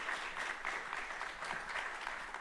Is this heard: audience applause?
yes